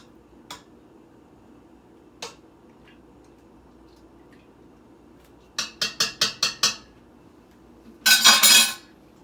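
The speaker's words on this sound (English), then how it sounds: "Now I'm just going to gently stir this too." A spoon stirs homemade Greek yogurt in a container. After a few faint isolated taps comes a quick run of about six crisp clinks, then a short scraping burst, all close and with no talking.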